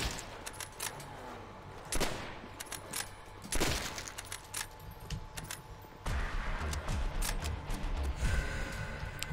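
Gunfire in Call of Duty Zombies, with repeated sharp shots and bursts, some louder cracks standing out, over busy game noise and clatter that grows denser toward the end.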